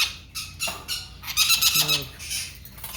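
A large pet parrot in a pet shop gives loud, harsh squawks in bursts close by, with a person talking softly in between.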